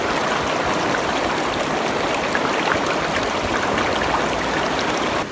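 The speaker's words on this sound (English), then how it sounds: "this water is coming straight off the stream here" A Sierra mountain stream rushes steadily close by, a dense, even wash of flowing water with no voices.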